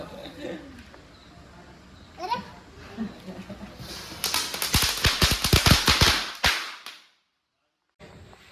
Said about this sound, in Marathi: कसले फटाके आहेत रे.